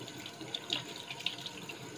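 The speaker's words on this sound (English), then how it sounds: "I have to put warm water on because brrr" Warm water runs from a tap into a sink during a soap lather test, a steady splashing stream with small irregular spatters, close and moderately quiet.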